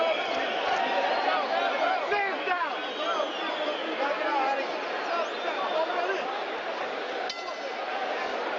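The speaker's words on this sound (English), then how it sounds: "Crowd continues to settle in for the main event coming up after this one." An indoor boxing arena crowd murmurs and chatters while settling in before a main event, a dense steady hubbub with scattered clinks and shouts, under continuous talk.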